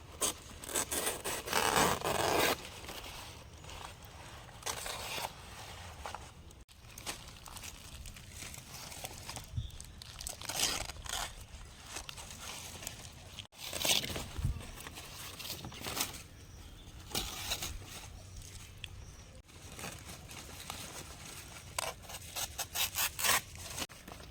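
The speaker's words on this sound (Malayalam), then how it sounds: "നമുക്ക് ഇല പോയി കട്ട് ചെയ്തുകൊണ്ട് വരാം. ഇല കീറിയെടുക്കാം." Banana leaves torn by hand, producing dry ripping, crinkling and rustling bursts that come and go, close and fairly quiet, with pauses between tears.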